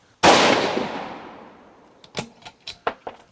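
A single loud rifle shot from a 6mm Creedmoor Howa 1500 cracks sharply and rings out in a long fading tail, followed by a few short clicks and knocks.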